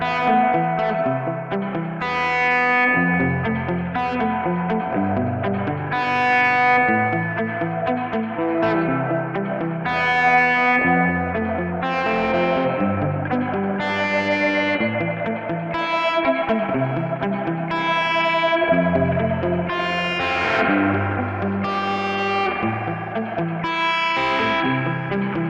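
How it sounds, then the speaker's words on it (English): A guitar plays chords and melody through a Gamechanger Audio Light Pedal's modulated reverb, swirling and shimmering, with washy echoing tails throughout; no voices. "It creates dynamic reverb effects by changing the position of the active sensors over time."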